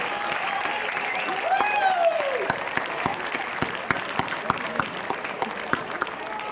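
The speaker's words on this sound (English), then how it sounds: "Please, a big, big, big round of applause for them." A concert audience at a West African music and dance performance breaks into sustained applause, a dense wash of many hands clapping at moderate distance, with a few individual claps standing out as it starts to thin.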